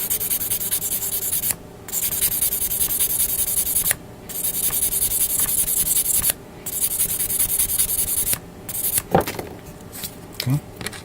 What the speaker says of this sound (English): And I gotta sand down a few parts here.